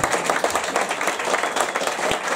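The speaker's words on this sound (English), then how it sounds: "can we have a nice round of applause for these big fighters today?" Crowd at a kickboxing fight clapping after the bout, close and lively, with uneven bursts of hand claps swelling and dipping over a couple of seconds.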